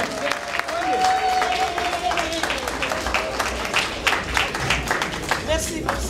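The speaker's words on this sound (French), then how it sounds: "Applaudissez!" Audience applause at an ARGA Guinean community gathering in Atlanta rises as loud, dense clapping and cheering, with voices calling out over the steady clatter of hands.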